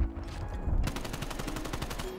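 Rapid automatic gunfire in the Black Ops Cold War video game, a loud continuous burst of evenly spaced shots that kicks in after a brief lull and runs steadily to the end.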